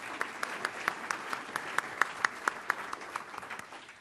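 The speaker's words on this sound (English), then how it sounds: "Give her another round of applause, please." Audience applause for a keynote speaker at an awards event: a room of clapping with distinct, rhythmic individual claps cutting through, gradually thinning toward the end.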